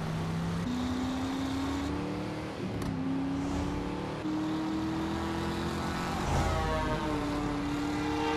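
A steady engine drone with a rising and falling whine of a news helicopter passing overhead in the video game Driver: San Francisco, continuous and fairly loud with no talking.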